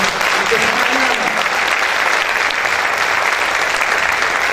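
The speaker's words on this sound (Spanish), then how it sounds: "Vamos a darle un fuerte aplauso al Señor." Congregation at a church service breaking into strong, sustained applause, a dense steady wash of clapping that holds loud and even throughout.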